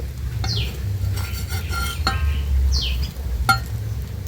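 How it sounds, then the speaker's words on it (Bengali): Eggplant slices being turned with a metal spatula in a hot wok with no oil: a few distinct scraping clinks spaced a second or so apart over a low, steady background hum. "এইভাবে উল্টে পাল্টে কিন্তু একটু সময় নিয়েই ভাজতে হবে"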